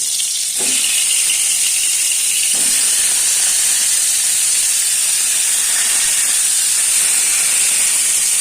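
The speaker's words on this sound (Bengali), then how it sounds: "নুন হলুদ মাখিয়ে রাখা পটলগুলোকে আমি একে একে ছেড়ে দেব দিয়ে লাল লাল করে ভেজে নেব" Salted, turmeric-coated pointed gourd pieces drop one by one into hot oil in a wok, a loud continuous hiss with two brief bumps as pieces go in.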